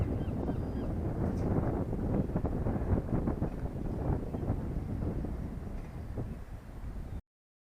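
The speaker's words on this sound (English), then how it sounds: "Quite windy, so there's probably some wind noise." Wind buffets an action camera's microphone at Brixham Harbour, producing a continuous low, rumbling roar with uneven gusts that runs for several seconds before cutting off abruptly. No voices are present.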